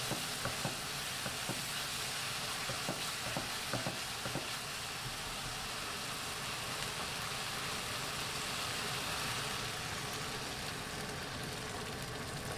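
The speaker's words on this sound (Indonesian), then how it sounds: "Kita masukin sekalian dan masak sampai layu dan harum." Sliced onions fry in a pan with a steady, even sizzle throughout. A few light scrapes of stirring come near the start, and no one speaks.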